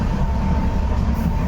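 Steady low rumble and hum of a train approaching Naxalbari station in West Bengal, a continuous close mechanical drone with a faint tone running throughout.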